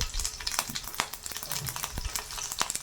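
Mustard seeds, cumin and green chilies sizzle and crackle in hot oil, a steady close frying hiss dotted with small sharp pops.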